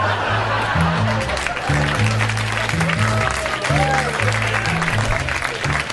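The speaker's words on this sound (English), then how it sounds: "I need that sporadic applause on the CD" At a Mitch Hedberg stand-up comedy show, an audience keeps up scattered applause mixed with laughter and chuckles, steady and fairly loud, with a low rhythmic musical drone running underneath.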